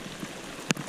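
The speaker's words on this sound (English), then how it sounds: "It's obviously raining" Rain falls on Honeoye Lake during a bass fishing outing, a faint, steady patter across the water with one brief louder drop.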